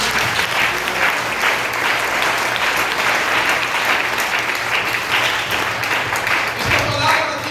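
Church congregation at a Sunday service breaking into loud sustained applause, a thick even wash of many hands clapping with no break.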